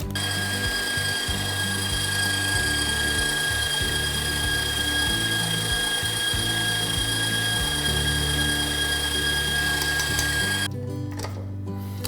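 An electric mixer beats room-temperature butter and cream cheese with a steady, loud, high-pitched motor whine that wavers slightly, then cuts off abruptly near the end.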